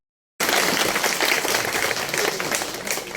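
Loud, dense crowd applause at a public meeting in Khudana, Mahendragarh, begins abruptly after a brief silence and continues steadily to the end with no talk.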